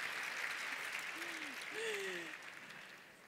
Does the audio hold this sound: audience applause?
yes